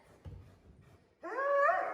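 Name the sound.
dog whimpering during bite training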